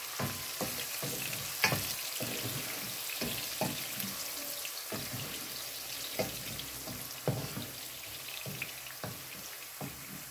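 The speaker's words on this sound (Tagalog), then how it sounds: "Igigisa natin." Okra sautés in a pan with a constant soft sizzle and regular clacks and scrapes of a utensil stirring, close up and without speech.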